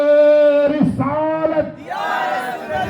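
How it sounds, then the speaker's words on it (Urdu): A large religious gathering chants devotional slogans in unison, with a sustained call from a lead voice followed by loud, rhythmic crowd shouts answering close by. "نعرے"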